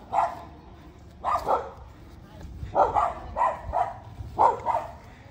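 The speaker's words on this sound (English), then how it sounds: "dogs love my videos." Several dogs bark in short repeated bursts on a disc golf course, medium-close, with quieter stretches between the barks.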